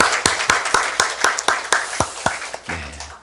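A church congregation at a special dawn prayer service claps together in steady rhythmic beats, about a dozen sharp, evenly spaced claps at a brisk pace that trail off near the end.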